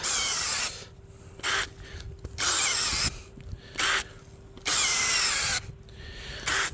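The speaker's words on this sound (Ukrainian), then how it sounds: "Буває деякі лунки лучше свердляться, деякі хуже." A cordless drill whines in repeated bursts, each lasting about a second, with grinding and rasping between pushes as it bores holes into the ground nearby, some holes drilling easier than others.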